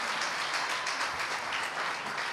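A church congregation applauds loudly and continuously, a thick wash of clapping from many hands, steady throughout with no speech.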